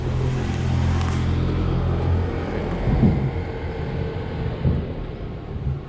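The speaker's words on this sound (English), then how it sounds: "now the automated car is leaving" A driverless automated car pulls away on a San Francisco street, a steady low road rumble and mild engine hum with faint bumps, close and continuous, without talk.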